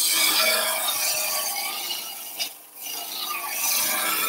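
A wood lathe turns a salt mill blank while a turning tool peels off long shavings, making a steady, close scraping whir that briefly dips once.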